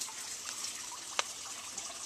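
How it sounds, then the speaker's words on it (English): Water trickles steadily from a seeding table down through a bar sink drain into a hydroponic sump tank, a faint continuous flow with one brief splashy drip. "the water will run down right back into the sump tank"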